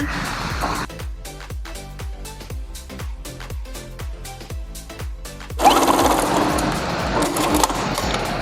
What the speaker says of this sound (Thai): เราจะเย็บเส้นนี้ก่อน ตรงด้านที่มันอ้าก่อนเนาะแล้วหลังจากนั้นเราก็จะเย็บอีกฝั่งหนึ่งเป็น 2 เส้นนะคะ